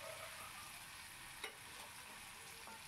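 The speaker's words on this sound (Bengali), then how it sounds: "একটুখানি নাড়াচাড়া করে নিতে হবে।" Potatoes fry in a pan, sizzling in a steady, even hiss with a single soft scrape of a spoon as they are stirred.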